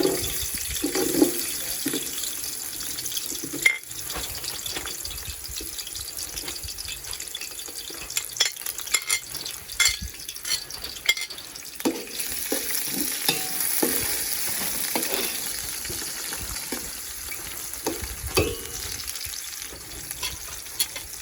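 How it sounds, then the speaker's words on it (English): Onions sautéing in oil with fennel seeds for a South African beef curry, a low steady sizzle broken by frequent clattering stirs and scrapes of a utensil in the pot, close by and without talk. "Let it saute till it gets just slightly brown"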